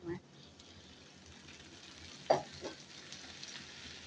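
Onions frying in a pan give a faint, steady sizzle with a brief clatter of stirring partway through; a voice speaks quietly over it.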